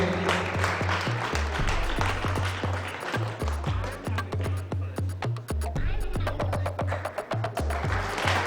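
Applause for three sisters being honoured at a Prajapati community student award ceremony, loud and continuous with sharp clapping transients over a rhythmic amplified music beat.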